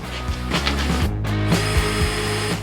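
A power drill bores into the body of a vintage camper van under conversion, its motor whining in steady pulses with a grinding bite into the material, loud and close throughout.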